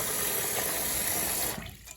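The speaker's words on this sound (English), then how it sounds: "fill it up with water" Tap water runs steadily into a pot of rice for washing, a continuous loud rushing stream that cuts off near the end.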